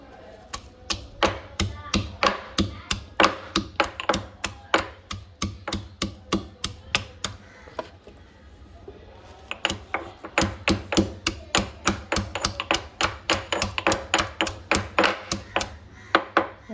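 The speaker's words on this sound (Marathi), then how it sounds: "हा लसूण मी जो साफ करून ठेवला आहे तो मी ह्याच्यामध्ये खलबत्त्यामध्ये ठेचून घेते." Garlic cloves pounded in a traditional mortar and pestle, a steady run of sharp, close thuds in quick rhythm, with a brief lull midway before the pounding resumes faster.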